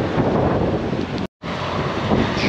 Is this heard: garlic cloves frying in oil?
no